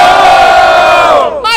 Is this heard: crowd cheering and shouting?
yes